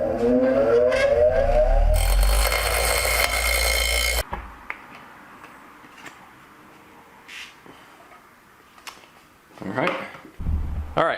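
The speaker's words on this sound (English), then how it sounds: "Let's Dremel it up." A Dremel rotary tool cuts through a small rod rack pole, giving a loud, steady high-pitched whine for about two seconds that then stops abruptly, followed by quieter handling noises.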